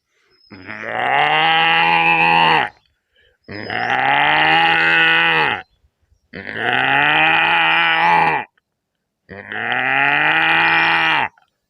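A voice mimics a cow with four long, loud, drawn-out moos, each lasting about two seconds, separated by brief silences.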